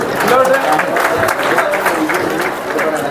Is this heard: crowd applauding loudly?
yes